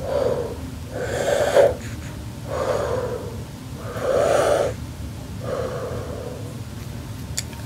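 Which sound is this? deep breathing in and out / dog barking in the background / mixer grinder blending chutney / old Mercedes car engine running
deep breathing in and out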